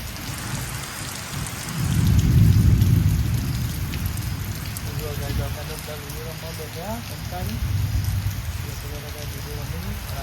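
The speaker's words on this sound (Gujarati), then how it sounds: "જો વરસાદ અને વીજળી અંગાત ગાઈસ ચાલુ છે" Heavy rain hisses steadily throughout, with a loud low rumble of thunder swelling near the start and another softer roll later; someone talks over the downpour.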